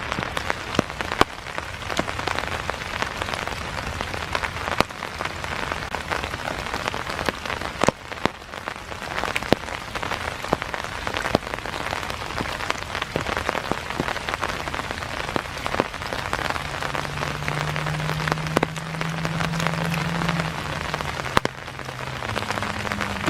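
Steady rain patters over a park on a dark, foggy February morning at Iroquois Park, a dense even hiss with scattered sharper drops throughout and a faint low hum rising near the end.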